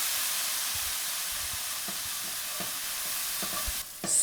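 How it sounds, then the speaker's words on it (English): Pan deglazed with rice vinegar while crumbs are scrubbed loose, a steady soft sizzle and hiss with light scraping strokes, close and quiet, no talk. "Scrubbing all the last of that crumbly texture below"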